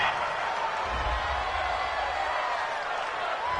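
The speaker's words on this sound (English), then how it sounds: "This home crowd, they're happy with that call." A home crowd at a simulated football game reacts to a pass interference call, a broad, steady roar of cheering and crowd noise filling the stands throughout.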